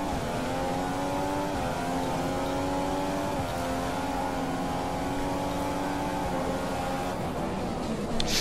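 Race car engine from the F1 2015 game at the Mexico Grand Prix, a loud sustained high-pitched whine with shifting gear tones and steady revving throughout, no talk.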